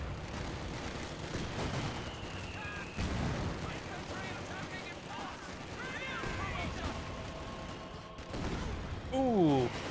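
Gunfire and a Gammon bomb explosion in the World War II strategy game Company of Heroes 2, a dense run of shots and blasts under steady commentary, with a sharper burst near the end.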